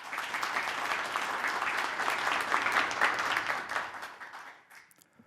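Applause from an audience at a legislative public hearing on preventing jeonse fraud, welcoming a National Assembly member; dense steady clapping fills most of the stretch, then thins and fades near the end.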